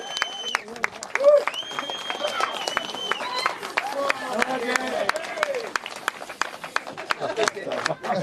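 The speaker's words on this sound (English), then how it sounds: "Big round of applause" A crowd at a British Supermoto championship round claps for the series champion, a scattered, moderately loud applause with a few whistles and cheers, heard beneath and between an announcer's voice over a public address system.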